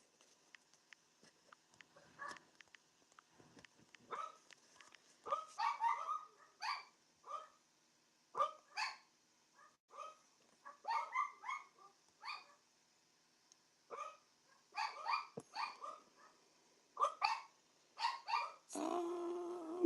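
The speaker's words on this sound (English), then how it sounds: "Must have somebody at my door because the dogs are going crazy." Several dogs bark repeatedly in an excited, irregular string of sharp barks, loud and close, with short pauses between bursts and no voices.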